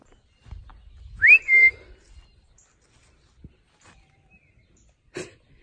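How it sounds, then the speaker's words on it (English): A single short, high dog whistle blast with a quick upward sweep sounds once, followed by quiet rustling and a faint click. "And yes, my chickens answer to dog whistles."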